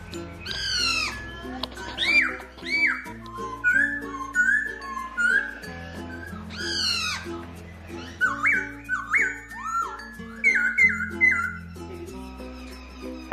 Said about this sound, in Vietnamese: Nghe hay anh em. Chim khiếu nhá.